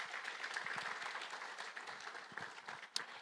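A conference audience gives a sustained round of applause for a speaker, a dense, fairly distant wash of many hands clapping, steady throughout.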